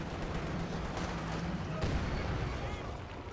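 Mortar rounds firing in the Company of Heroes 2 battle game, a steady rumble of distant artillery thuds and crackling gunfire with no clear separate shots, set low in the mix beneath the game's ambient battle noise.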